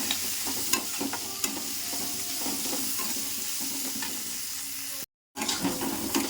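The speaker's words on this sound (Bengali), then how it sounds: "পেঁয়াজটা দিয়ে পেঁয়াজটাকে ভালো করে ভেজে নেবো আর এর মধ্যে নুন অ্যাড করে দেবো" Onion frying in hot oil with salt in a home kitchen while mutton is being cooked: a steady, close sizzle with intermittent stirring scrapes, broken by a brief silent gap near the end.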